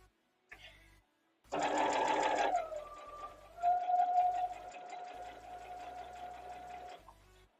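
A sewing machine stitches down flange binding on a Starfire quilt in two runs, a short burst followed by a longer steady whirring stretch, loud and close with a faint tone under the motor.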